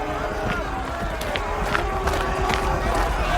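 An angry crowd closes around a man near the Stephens brothers' glass factory in Portugal, a dense, loud mass of shouting voices and scuffling movement with no pause.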